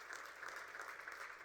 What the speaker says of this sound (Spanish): Le da ese aplauso fuerte al Señor.